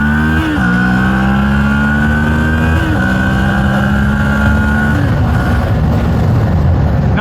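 A Moto Morini X-Cape 650 adventure motorcycle accelerates hard and loud, climbing through the gears, with short dips at each shift around the one-, three- and five-second marks.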